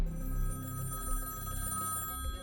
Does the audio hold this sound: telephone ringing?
yes